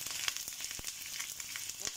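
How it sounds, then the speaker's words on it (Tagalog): Beef pieces frying in hot oil for kaldereta, a close, steady crackling sizzle with sharp spits and pops scattered throughout, heard alone without talk. "Iprito muna natin"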